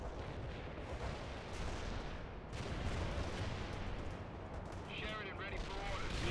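Battlefield combat in the real-time strategy game World in Conflict: Soviet Assault, with continuous gunfire, artillery and machine-gun bursts forming a dense roar, plus a radio-style unit voice late on.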